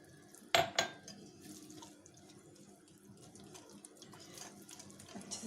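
Water poured into a bowl of dalia batter for a vegan uttapam, a short splashing pour near the start followed by quieter trickling and faint kitchen sounds.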